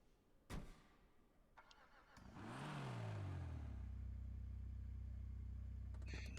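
A Japanese car in GTA 5 starting up, a click and whir of the starter followed by the engine catching with a rising rev, then settling into a steady low idle hum close by.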